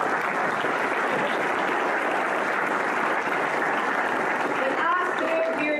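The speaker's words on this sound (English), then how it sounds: "Yes, you give them a round of applause." An audience of Teamsters union members at a political speech applauds, a dense, steady round of clapping that stays loud and continuous throughout, with a few faint voices rising near the end.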